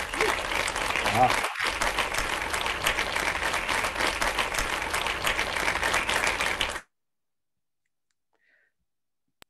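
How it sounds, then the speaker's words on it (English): Audience clapping at the close of an interview session, a steady continuous round lasting several seconds before cutting off abruptly to silence, with a brief voice during it. "I love we have clapping."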